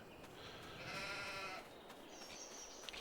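A sheep in the Farming Simulator video game gives a single faint, thin bleat lasting about a second in a quiet farm scene, followed by a soft higher call and a short sharp click at the very end.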